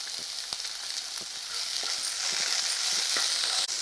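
Small shallots sizzle in a hot pan of oil for a ragi dish, a steady loud crackling hiss with light stirring clicks and scrapes.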